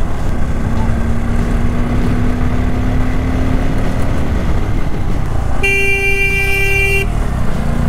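A motorcycle horn, on a Bajaj Pulsar N250 being ridden on a two-lane highway near Konark, sounds once for about a second and a half over steady engine and wind noise.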